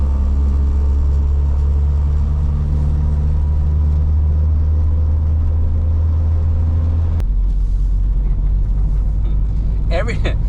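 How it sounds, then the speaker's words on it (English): Honda Integra on a quick test drive, fitted with solid motor mounts: a steady loud low engine drone and road rumble that drops off abruptly near the end, with some spoken voice over it. "So I'm test driving it really quickly to make sure the steering wheel is as straight as possible."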